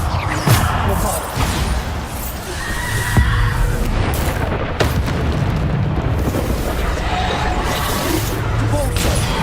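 Booming Bombarda explosion spells cast in Hogwarts Legacy combat ring out repeatedly as heavy blasts over a busy battle din, with other spell effects and a vocal presence mixed in.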